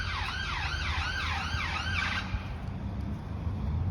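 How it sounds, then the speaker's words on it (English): A rapid wailing ambulance siren cycles loudly for two seconds, then cuts off, leaving low traffic rumble. "I'll just let the ambulance go by."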